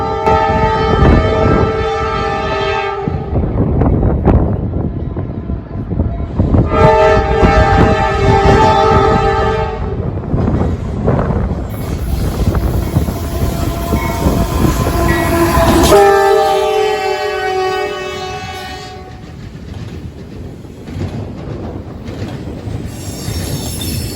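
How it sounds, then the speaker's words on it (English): A northbound intermodal freight train on the Sandusky District sounds its horn in several long, loud blasts over the rumble and clatter of passing rail cars, with squealing wheels between blasts. "northbound intermodal train 20N came up the Sandusky District"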